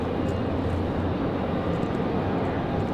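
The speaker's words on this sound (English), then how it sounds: "Enjoy the Dreamliner arrival." Boeing 787 Dreamliner arriving at Raleigh-Durham International on a windy day, a steady broadband jet roar with low rumble holding constant throughout, fairly near and continuous with no talk.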